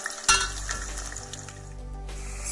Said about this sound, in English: Next are potatoes. We'll cook for 2 minutes.